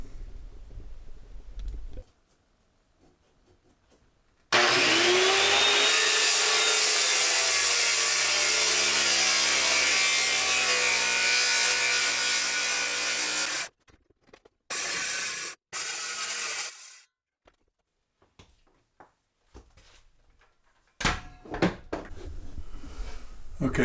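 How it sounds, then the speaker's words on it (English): Power saw cutting out a wooden wall stud in a kitchen addition framing job, one long loud steady run of about nine seconds, followed by a few shorter bursts and clattering of wood; no talk. "Okay, so I got the stud cut out"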